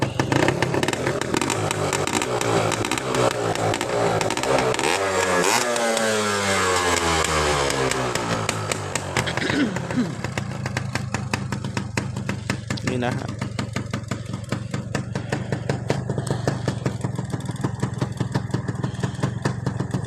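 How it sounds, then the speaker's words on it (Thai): A Honda Tena New motorcycle engine runs up close and revs: pitch rises and falls in sweeps through the middle, then drops back to a steady, loud running idle. "ลองฟังเสียงเครื่องเลย"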